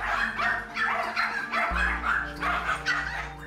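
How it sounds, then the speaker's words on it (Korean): Roughly twenty dogs, including Pomeranians, are kept in metal cages inside a building. They bark repeatedly and densely in overlapping bursts, loud and near, with a steady low hum underneath. "하지만 건물 실내, 그것도 철창 안에 갇혀 지내고 있는 개들."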